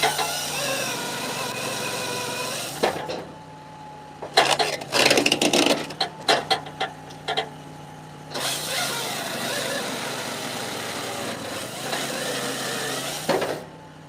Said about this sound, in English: This is some dry maple we're running through right now.